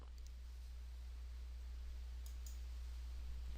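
A couple of faint, sharp mouse clicks land on a Cancel button in AutoCAD 2015, heard over a steady low electrical hum.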